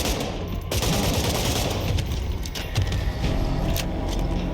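An AKS Valentine rifle fires sustained automatic bursts in State of Decay 2, loud and close, each shot snapping sharply in a rapid chain without pause and with no voices.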